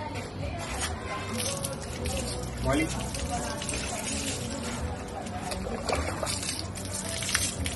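Water poured and splashed over a dog during an outdoor bath, an uneven run of trickles and splashes under someone speaking Hindi.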